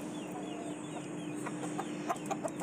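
Soft clucking from BK ekor lidi ornamental chickens in a farm coop, a few short calls bunched near the end over a low, steady background hum.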